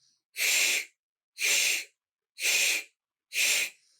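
Four forceful, evenly spaced exhales, each a loud airy burst of breath with brief silence between, close to the microphone.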